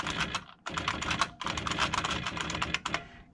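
Typing on an IBM Wheelwriter 30 daisy wheel typewriter makes dense, rapid, loud mechanical clatter in two bursts split by a brief pause. The sound is close and has no talk over it.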